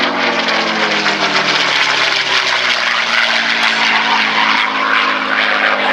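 A North American P-51D Mustang propeller fighter passes loud and close at an air festival, its piston engine and propeller giving a steady, heavy drone throughout with a slowly shifting pitch.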